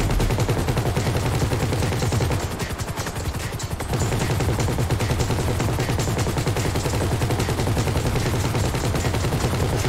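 Sustained rapid machine gun fire from helicopter-mounted guns during a heist in Grand Theft Auto V, loud and continuous bursts with a brief dip midway, with a helicopter's rotor drone beneath.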